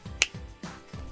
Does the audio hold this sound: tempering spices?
no